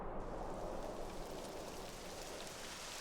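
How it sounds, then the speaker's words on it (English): Rain begins to fall in the video game Dragon Quest XI, a steady soft hiss of downpour with faint low rumbling beneath it, constant and even throughout with no voices. "It would have to go and start raining, wouldn't it?"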